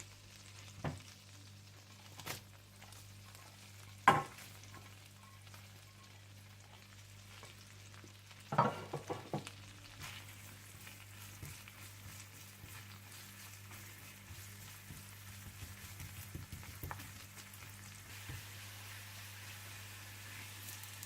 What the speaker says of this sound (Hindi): जब मक्खन गरम हो जाए तो आप इसमें लहसुन और हरी मिर्चें डालकर गोल्डन फ्राई करके निकाल लें।